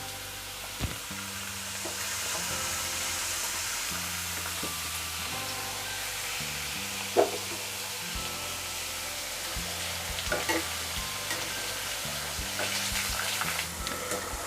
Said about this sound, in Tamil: இப்போ நம்ம கொதிக்கிற ஆயிலில் சீவி வச்சுருக்க ஸ்லைஸை போட ஆரம்பிச்சிடலாம்.